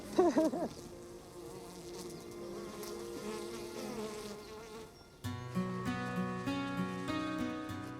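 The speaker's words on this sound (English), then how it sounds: "You should see the back of you. You're covered in bees." Bees buzzing around beekeeping suits outdoors, a close, wavering drone of many insects, with a louder sweep near the start and a denser pitched buzz later.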